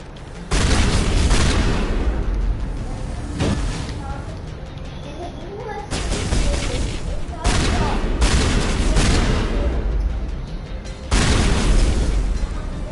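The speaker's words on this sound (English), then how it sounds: "We'll see if a shotgun helps." Repeated heavy shotgun blasts in a PS4 video game fight against a creature that keeps restoring its health, booming bursts coming every couple of seconds under continuous background game noise.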